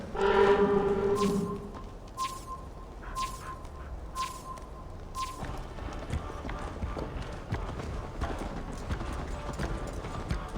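Horse hooves clip-clop steadily on the ground in Assassin's Creed Valhalla, a continuous rhythmic trotting under game ambience, starting after a brief sustained tone with periodic sharp hits.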